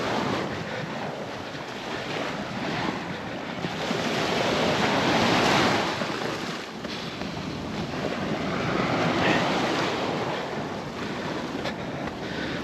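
Waves surging and breaking at high tide on the north beach of Marrowstone Island in Puget Sound, a loud, continuous wash of surf with swelling peaks, heavily buffeted by wind rumble on the microphone.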